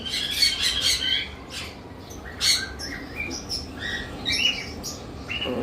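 Pet sun conure or cockatiel kept for sale, squawking in repeated harsh bursts that sit close and fairly loud over a steady low background hum, with several separate calls spread across the stretch and no talking.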